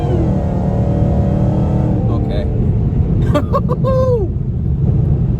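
Supercharged 2018-20 Ford Mustang GT with a VMP Odin kit, engine warm, rumbling and pulling up in pitch under light throttle on a first drive, with someone talking over the steady engine drone.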